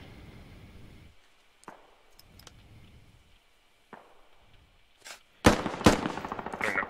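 Machine gun fire in the Squad video game, heard at a distance at first as scattered faint cracks over a quiet background, then close, loud rapid bursts near the end.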